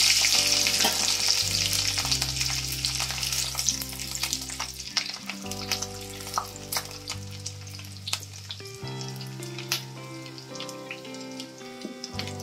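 Garlic crackles and sizzles in hot oil in a pan, a loud close frying hiss that fades gradually, broken by light stirring scrapes.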